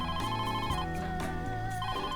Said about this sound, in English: The banter was interrupted by the delivery phone.